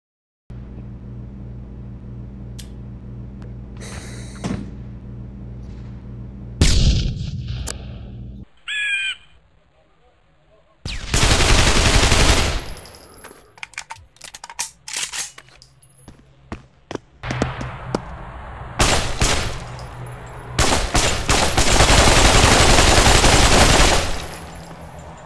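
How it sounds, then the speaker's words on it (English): Gunfire and grenade blasts in the Pavlov VR video game, loud bursts of shooting and explosions broken up by quieter gaps, with sharp crow-like caws early on and no speech. "How does it feel with grenades being thrown at you?"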